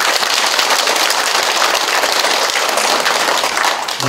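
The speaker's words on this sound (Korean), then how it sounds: "고맙다는 박수다가 우리 한번" A seated audience at the Icheon mayor's New Year greeting visit to the Changjeon-dong community center claps in a dense, steady wash of applause that holds at an even loudness throughout.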